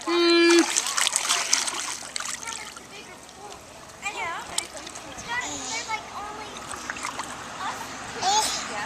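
A child splashes through pool water while swimming toward the wall, with bursts of splashing mixed under an adult's nearby encouraging talk.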